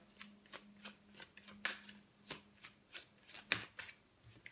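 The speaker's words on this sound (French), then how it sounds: "je vais quand même tirer encore une carte" Tarot cards being shuffled and drawn, a series of soft, quick riffling flicks and taps in an even rhythm, close and fairly quiet, with no voices.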